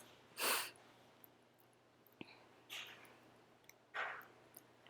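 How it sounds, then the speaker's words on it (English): A woman sniffles three times through her nose, short breathy bursts spaced a second or so apart, close and fairly quiet over a low hum. "y'all are like probably so tired of hearing me sniffle"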